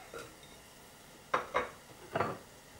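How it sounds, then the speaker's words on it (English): Chopped onions and garlic drop into a saucepan of melting butter, giving three short, close clattering bursts like pieces landing and a utensil knocking the pan, with faint sizzle between. "put in your coarsely chopped onions and garlic"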